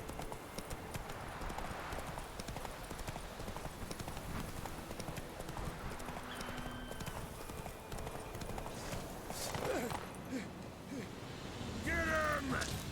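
Steady clip-clop of the horse Roach galloping in The Witcher 3: Wild Hunt, hooves drumming in an even rhythm under a man's speech, with some clanking and other game sounds near the end.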